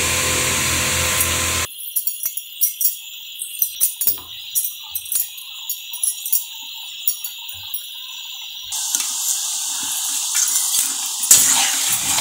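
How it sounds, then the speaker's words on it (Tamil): Chilli candy dough deep-frying in moderately hot oil, a steady crackling sizzle with bursts of bubbling that begins abruptly, runs close and fairly loud, then settles into a quieter hiss toward the end. "மிதமான சூட்லேயே நம்ம இதை பொரிச்சு எடுத்துக்கலாங்க"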